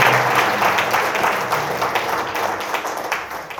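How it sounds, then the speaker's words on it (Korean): Audience applause in a church service held at a hotel hall, a dense, sustained wash of many hands clapping together, loud and steady, tapering slightly toward the end with no talking over it. "박수 한번 합시다"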